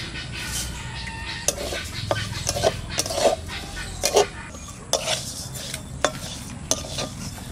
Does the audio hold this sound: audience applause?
no